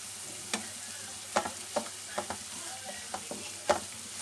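Masala roasts in a pan while a spoon stirs it, giving a faint low sizzle broken by about a dozen sharp scrape-and-tap clicks at an uneven pace.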